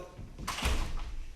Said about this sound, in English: let me just close the door right now